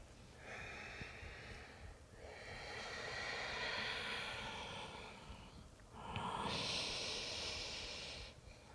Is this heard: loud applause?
no